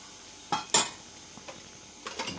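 A spatula scrapes and taps a pan while turmeric and garam masala are sautéed for mushroom masala, with two sharp clinks up front, then quieter scraping and a soft sizzle.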